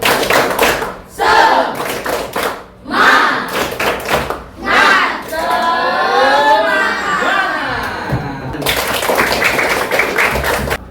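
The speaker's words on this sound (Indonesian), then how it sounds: "Tepuk semangat." A class of children does a rhythmic clapping chant in a classroom, bursts of synchronized claps and thumps alternating with chanted group voices, loud and close.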